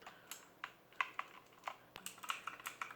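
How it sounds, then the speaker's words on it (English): Rapid, crisp clicking of keys on a Motospeed Inflictor CK104 mechanical keyboard with Cherry MX switches, irregular typing bursts heard up close and fairly quiet. "it's a mechanical keyboard with Cherry MX switches, which are very clicky"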